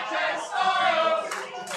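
A wrestling crowd claps and cheers for AJ Styles, with rhythmic clapping mixed into a loud, continuous murmur from the arena.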